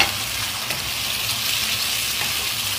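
Chili paste for a sambal tumis is stirred as it fries in a pan, giving a loud, steady sizzle and hiss with no voices over it.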